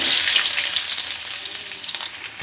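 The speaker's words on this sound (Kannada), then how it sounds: "ಸೊ ಇವಾಗ ಒಗ್ಗರಣೆಗೆ ಈರುಳ್ಳಿ ಕೂಡ ಹಾಕೊಳ್ಳೋಣ." Chopped onion frying in about two tablespoons of hot oil in a pan for tempering, giving a loud, continuous close sizzle with light stirring scrapes.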